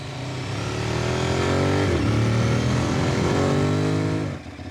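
A Yamaha Tuareg 660 motorcycle engine drones loud and close while riding an off-road trail in France, its pitch rising and falling with throttle changes before easing off at the end.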